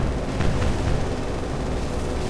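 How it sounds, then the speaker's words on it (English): Bomb explosions strike a tanker in the naval warfare game War on the Sea, in a Dutch East Indies campaign: a dense, loud, continuous rumbling roar with a few sharper blasts in the first second, and no speech. "Good explosions, good explosions, good explosions."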